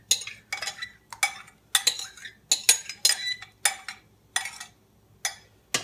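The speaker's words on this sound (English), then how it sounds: "Okay, stir that up." A metal spoon stirs warmed yogurt into cooled milk, striking the bowl in about ten close, bright clinks and scrapes at an uneven rhythm, with quiet pauses between strokes and no voices.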